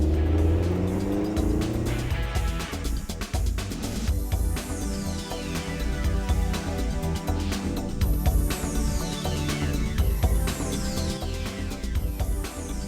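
A Tango concept car with 180 brake horsepower is driven hard. The engine revs and rises steadily throughout, with repeated tire squeals and pass-by swells close up.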